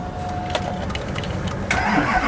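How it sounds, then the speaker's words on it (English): A truck engine cranks over and catches while boosted by a compact heavy-duty jump pack, with clicks and brief cranking followed by a louder, steady running roar near the end. "It starts the truck."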